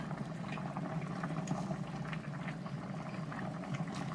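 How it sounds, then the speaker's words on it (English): Chicken noodle soup with bell peppers, onions and celery boils in a pot close up, a steady faint bubbling and simmering hiss throughout, with no talking. "We'll see if I can get you up close while it's boiling."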